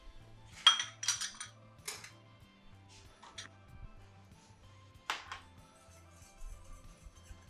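Crème fraîche is stirred into a sauce in a pan, with a utensil clinking and scraping against the metal in sporadic bursts over a faint low hum.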